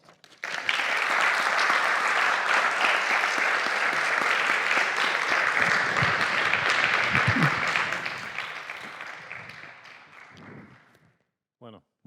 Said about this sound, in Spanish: Mereces el aplauso.